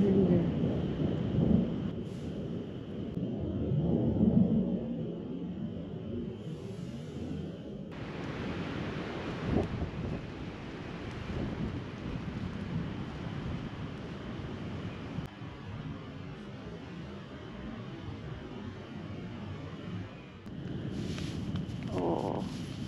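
Thunderstorm over a campsite on a bluff during a solo backpacking trip: long low rolling rumbles of thunder and wind, steady and moderately loud, with no talking.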